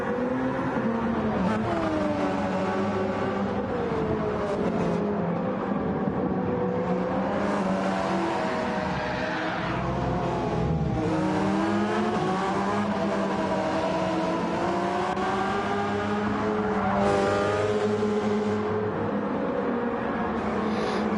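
Toyota and Porsche race cars lapping Autopolis in Gran Turismo, several engines whining and shifting pitch continuously as they accelerate and brake, a steady layered drone with no pauses.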